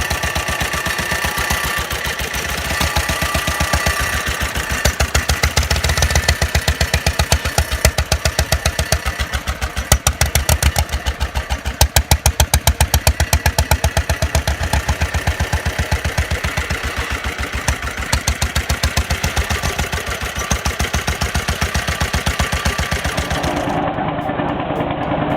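A 1930s International Harvester prototype single-cylinder motorcycle engine runs steadily for the whole stretch, its close, rapid knocking beat holding fairly even with slight surges, and no one speaks.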